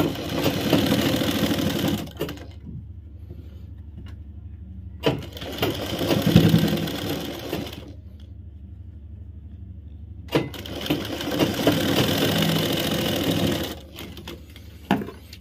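A sewing machine stitches a seam on underwear fabric in three long runs of steady rapid needle chatter, separated by short quiet pauses, close by with no talk.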